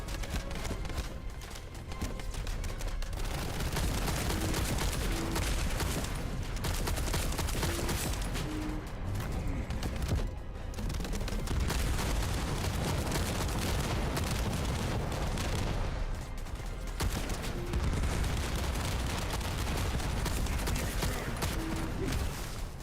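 Continuous video game gunfire aimed at glowing targets, a dense, loud barrage of shots and booms rolling on without pause, with brief dips in intensity.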